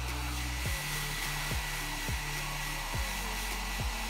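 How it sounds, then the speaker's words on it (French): A hair dryer runs steadily close by while drying a wet horse, a loud constant blowing whir with slight periodic dips in pitch as it is moved. "j'ai réussi à le sécher avec un sèche-cheveux"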